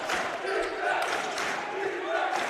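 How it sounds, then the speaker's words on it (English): A raucous crowd at an NAIA men's basketball tournament game roars and cheers continuously, loud and dense, filling the gym with voices and no clear speech. "It's probably the most raucous crowd I've ever seen here."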